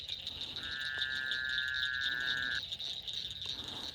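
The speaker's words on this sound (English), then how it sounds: "I thought somebody was screaming at first, but no, it's just the frog." A frog calls at night beside water during bass fishing: one sustained, buzzy croak of about two seconds rises clearly over a constant high insect whine and low background hiss, with no talking.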